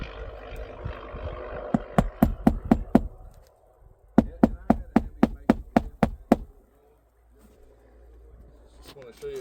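A hammer drives a nail down into roof shingles in two runs of sharp, evenly spaced blows, about six strikes then nine more after a short pause, loud and close, with quiet background between.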